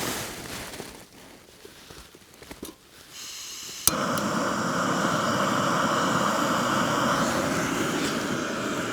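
A Fire Maple Torch gas stove lights with a sharp click and settles into a steady, loud roaring hiss that continues alone after a quieter lead-in of faint handling noises.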